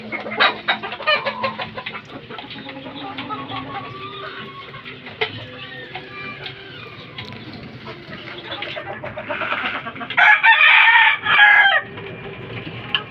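Gamefowl chickens and chicks cluck and peep close by on a farm, with a rooster crowing loudly toward the end amid steady chirping.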